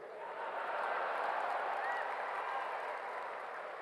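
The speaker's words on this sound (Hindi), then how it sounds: "ताली अपने आप ठोकेगी, देखना" A crowd applauds at a political speech with a dense, continuous wash of clapping that holds steady for several seconds, a faint whistle rising briefly above it.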